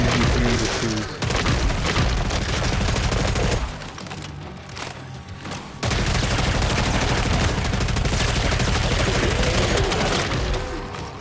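Dense gunfire from Killing Floor 3, a sustained loud barrage of rapid shots that breaks off briefly near the middle and then resumes, with booming impacts layered throughout.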